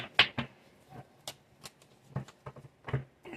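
Tarot cards shuffled in a deck, a few soft riffling flicks and slides scattered across a few seconds, close and quiet with no talking.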